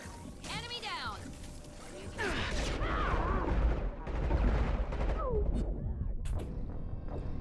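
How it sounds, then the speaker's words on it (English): Gunfire in the Mass Effect video game during a firefight near a shield, with dense bursts of shots and sci-fi effects that continue throughout, mixed with game dialogue and a player talking over the action. "Shoot them before they take out the shield."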